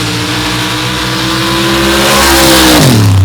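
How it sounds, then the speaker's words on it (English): A 632 Ford drag car and a big block Chevy drag car launch side by side at a drag race in Gore Springs, engines roaring loud and close, building into a deep surge near the end. "David French, 632 Ford going side by side with the big block Chevy of Rick George"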